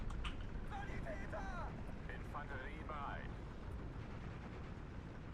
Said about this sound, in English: Oh, good old mortar.